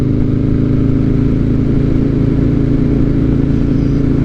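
Harley-Davidson motorcycle engine heard steadily while riding through gentle turns in a park, a loud, close, throbbing low rumble that holds even with little change throughout.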